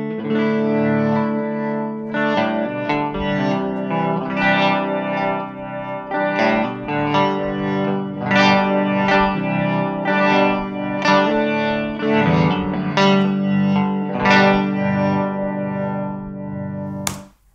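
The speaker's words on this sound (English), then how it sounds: "I'm going to record a guitar part onto my loop station and play that through the amp" A looped electric guitar part from a loop station swirls and warbles through a spinning homemade amplifier, strummed chords repeating steadily before ending abruptly.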